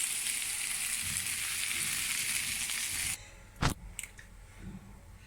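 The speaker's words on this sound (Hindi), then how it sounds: "तीस सेकंड के लिए इसे इस तरह फ्राई कर देना।" Chicken leg pieces fry in a pan with a steady, close sizzle for about three seconds, then the sizzle stops and a few brief utensil knocks and scrapes follow.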